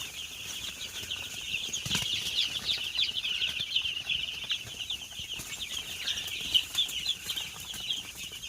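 Many three-day-old chicks cheep and peep in a continuous high chatter, with occasional soft flutters and a thump, fairly close.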